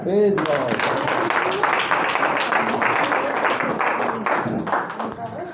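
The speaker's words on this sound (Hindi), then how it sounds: "ताली बजा दो।" An audience applauds at a Hindi-language sermon, steady dense clapping from many hands lasting several seconds after a brief spoken phrase, with voices mixed in.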